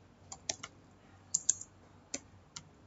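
Light, sparse keystrokes on a computer keyboard, a few quick clicks scattered in short bursts, close and quiet against a faint background hum.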